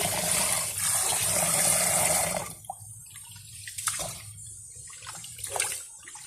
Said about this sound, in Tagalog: pangalawang hugas na po itong ating bigas